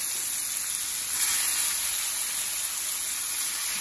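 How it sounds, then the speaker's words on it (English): Meat fries in a mix of butter and olive oil, giving off a steady, close, bright sizzle that hisses evenly throughout without any talking. "The sound of meat frying is never a bad sound, as far as I'm concerned."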